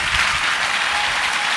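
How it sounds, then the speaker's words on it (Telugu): Church congregation clapping loudly during a Telugu sermon, a dense steady roar of many hands that stays strong and unbroken throughout. "గట్టిగా చప్పట్లు కొట్టండి"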